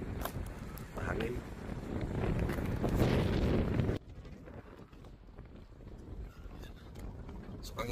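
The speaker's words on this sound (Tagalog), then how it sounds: "Mahangin." Wind at a seaside port in Scotland buffets the microphone in loud rushing gusts, then drops abruptly to a softer, steady breezy hiss with faint background sounds.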